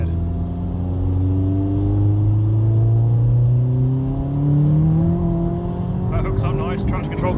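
A turbocharged Vauxhall Astra H VXR with an EFR turbo conversion accelerates hard, its engine note rising steadily in a loud close drone through the gears, with a voice near the end.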